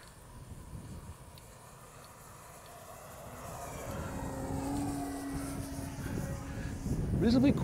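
A Hangar 9 Ultra Stick RC model airplane flies overhead, its engine drone rising steadily from faint to louder as it approaches, with a sustained tone building near the end.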